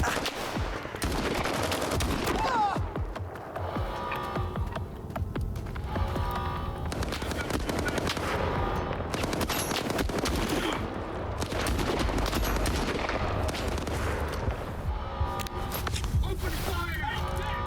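Gunfire in S.T.A.L.K.E.R. 2: Heart of Chornobyl, a dense continuous firefight with rapid bursts and machine-gun fire that barely lets up, loud throughout, with voices shouting over it.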